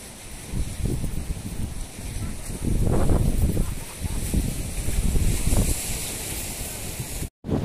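Steady wind buffeting the microphone in low rumbling gusts near Alcatraz, surrounded by sea, with voices talking over it throughout.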